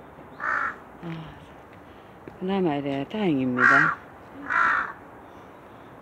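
Crows cawing outdoors in Korea, several loud harsh calls in short bursts, some doubled, fairly close, with someone speaking between and over them.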